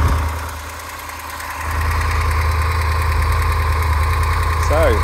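A 2022 Triumph Tiger 1200 GT Pro motorcycle engine idles with a smooth, even low rumble, continuous throughout, with a brief voice-like sound near the end.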